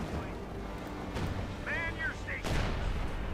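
A Priest self-propelled artillery gun in Company of Heroes 2 fires heavy booming rounds, two dull blasts rising over a constant low battlefield rumble, with a brief tonal game cue between them.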